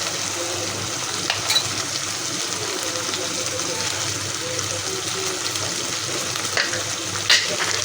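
Masala paste frying in oil for a soyabean dish, a steady close sizzle with faint crackles and a few small clinks of a utensil.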